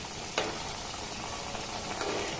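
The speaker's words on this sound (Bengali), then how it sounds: "আমি একটু হালকা লাল লাল করে ভেজে নেব" Ripe palm fruit (taal) pitha frying in a pan until lightly reddened, a continuous soft sizzle with a couple of faint clicks, close by.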